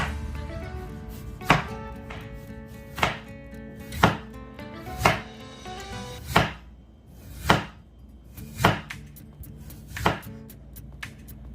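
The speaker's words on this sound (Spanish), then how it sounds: "vas a agarrar las puntas hasta llegar en medio y vas a girar la papa. Y vas a seguir cortando" A knife slices through potatoes on a cutting board in steady repeated chops, about one stroke per second, close and crisp with no talking.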